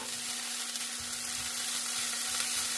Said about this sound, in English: I'm just going to move that around and saute for about somewhere between 3 to 5 minutes